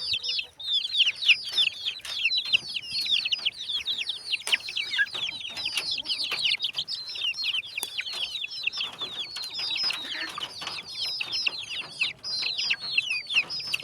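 Backyard hens and roosters clucking in a busy, overlapping chorus, steady high-pitched cackling from several birds nearby, with occasional knocks and shuffles but no talking.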